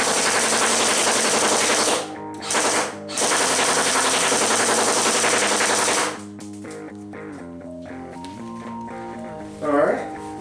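An airsoft gun rattles off rapid full-auto bursts, two brief gaps breaking the loud mechanical chatter before it stops and a voice speaks over quieter background sounds.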